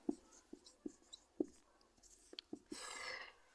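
Writing on a board during a class 10 maths lesson: a run of faint, close taps and strokes in an uneven rhythm, ending in a longer scratchy stroke, with no speech.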